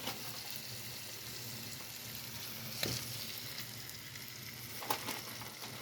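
Catfish fillets frying in a pan, a steady close sizzle with crackling, two sharper pops standing out near the middle and end, no voices.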